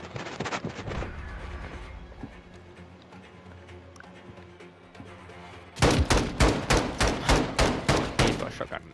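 Weapon fire in the video game Modern Warfare 2, an opening burst followed by a quieter stretch with faint speech, then a loud, regular run of about a dozen sharp shotgun-like blasts.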